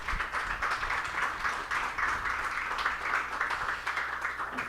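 An audience at a church teaching session on devotion to Mary gives a warm, sustained round of applause. Many hands clap densely and steadily throughout, filling the room at an even loudness with no speech over it.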